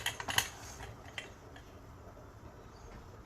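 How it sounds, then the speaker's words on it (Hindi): A few quick metallic clinks and taps as a pressure cooker lid is fitted on over mutton curry, then quiet room tone. "तो इसे कुकर का ढक्कन लगा रही हूँ"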